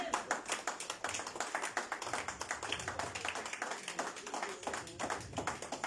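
A church congregation claps rhythmically to acclaim the Lord, a steady brisk beat of many hands sounding fairly faint and a little distant, with no clear voices over it.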